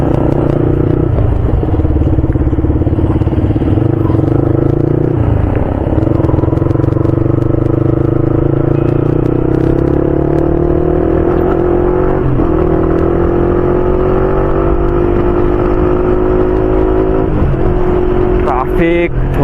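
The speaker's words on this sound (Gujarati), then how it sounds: "ટ્રાફિક થોડો બહુ છે" Night motorbike ride through busy city traffic in Vadodara. A loud, continuous engine drone rises and falls with revving throughout, with other vehicles passing close by and occasional clatter.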